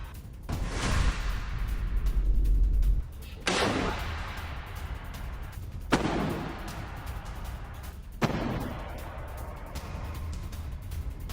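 Gunfire from a sniper attack in Gaza: several sharp, loud cracks spaced a few seconds apart, each trailing off in a long echoing decay, with a rumbling low background between shots.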